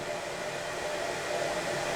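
A hair dryer blows continuously, a steady airy whoosh with a faint motor whine, unchanging and fairly quiet.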